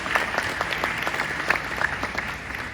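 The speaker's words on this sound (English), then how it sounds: "Round of applause, round of applause." A live audience applauds at an interview event with Giancarlo Esposito, with crisp, dense clapping at close range and a few sharper claps standing out, steady and without talk.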